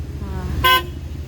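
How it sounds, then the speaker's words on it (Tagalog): A single short pop-up car horn toot sounds close by on a Suzuki DA64V van, over a low idling rumble. "Dual fan, then horn na pop-up."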